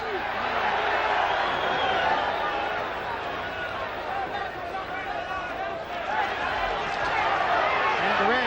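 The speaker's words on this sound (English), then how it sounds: "And the crowd's getting a little restless" A restless crowd murmurs at a 1983 boxing match between Marvin Hagler and Roberto Duran, a dense, steady babble filling the arena throughout, with a commentator's voice talking over it.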